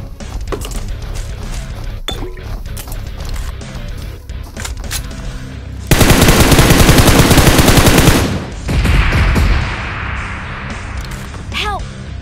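Gunfire in the mobile shooter BGMI during a Mecha Fusion match, with scattered distant shots and clicks, then a loud sustained burst of automatic fire for a few seconds, followed by a second rougher burst.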